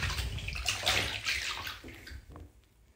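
Water drains from a tub after angora knitwear has been hand-washed, giving a steady rushing, sloshing flow that is loud at first and then gradually fades and thins out.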